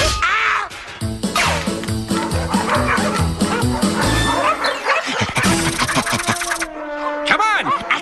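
Cartoon character imitating a dog barking over busy music and effects, with yips and whimpers in a rapid series of loud vocal bursts.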